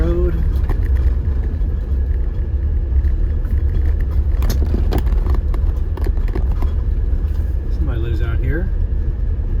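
Vehicle rolling along a dirt gravel road near Santa Fe, Tennessee, a steady close rumble of tires on loose surface with occasional rattles and bumps, someone talking over it.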